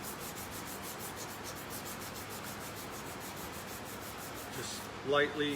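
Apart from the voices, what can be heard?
600 grit sandpaper polishing guitar frets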